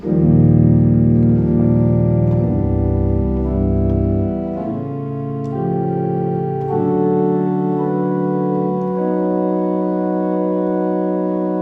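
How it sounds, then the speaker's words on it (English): Smooth, sustained pipe organ notes from an open diapason 8' stop on the great, forming steady chords that shift slowly, warm and full-bodied, with no voices. "On the great, the first real stop is an open diapason 8."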